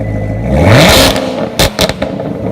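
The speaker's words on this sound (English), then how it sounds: "This is what the new Corvette ZR1 sounds like when it revs up." A 2019 Chevrolet Corvette ZR1 engine revving up, a loud close rising sweep that climbs and falls back, followed by a few sharp mechanical bursts and crackles near the end.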